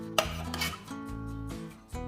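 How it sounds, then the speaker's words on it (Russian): A spoon scrapes and clinks around a bowl in short repeated strokes, stirring a thick mixture of corn starch and mango purée close up with a faint background hum. "Все это тщательно перемешиваем до однородного состояния, чтобы не было комочков."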